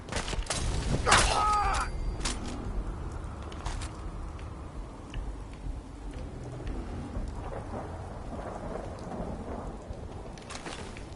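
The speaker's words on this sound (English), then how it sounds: "Love to get out of this rain." Steady rain hisses throughout, with a loud crack of thunder near the start that rumbles off into the downpour, in the video game Fallout 4.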